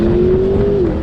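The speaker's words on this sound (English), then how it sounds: "you hear the turbos spooling under acceleration, you hear the turbos fluttering under deceleration, you hear the exhaust" A 2021 McLaren GT engine and turbocharged exhaust pull hard under acceleration, a loud, steady droning tone rising slightly then easing off near the end, close and continuous with no voices.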